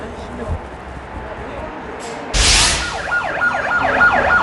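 An ambulance siren wails in a rising-and-falling pattern, fairly loud and close, cutting in after a short burst of noise and running under a busy street background.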